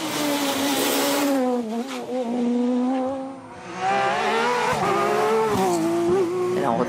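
A Porsche 997 GT3 rally car races on a stage of the 2014 Rallye des Cévennes, its engine loud and close with pitch rising and falling through gear changes and a brief dip midway, with some tire noise.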